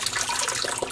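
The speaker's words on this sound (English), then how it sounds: "I'm gonna pour out the liquid and see what we see" Dye liquid is poured out of a pot of solar-dyed wool roving, a close, continuous splashing gush lasting under a second with no voices.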